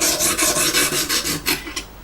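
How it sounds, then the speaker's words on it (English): A knife blade is drawn across the stone of an Exduct E0931D sharpening system in rapid, evenly spaced rasping strokes, close and loud, about a dozen passes slowing slightly toward the end. "So that's how you sharpen it, like so, like this, and just flip it over and then take the burr off of it again."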